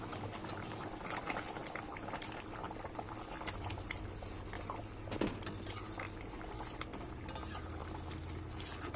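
Chicken curry with garam masala powder simmering in a pot, a steady bubbling boil with soft stirring and a faint sizzle throughout, fairly quiet and continuous with no talk.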